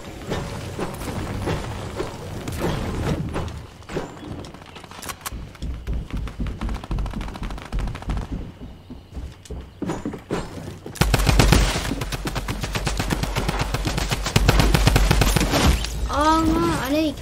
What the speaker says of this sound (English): How am I supposed to kill this drum gun?